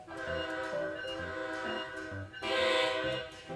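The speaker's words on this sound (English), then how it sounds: "That's the loud horn." A loud train horn in the Train Sim World 4 simulator, a sustained rich chord sounding twice, the second blast longer and brighter, close and dominant with no talk.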